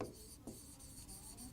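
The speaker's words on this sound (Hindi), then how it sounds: "तो यहां पर बेटा हम लोग नोट लिखेंगे" Pen or pencil writing notes on paper, a quiet, close scratching and rubbing in short strokes, faint and alone.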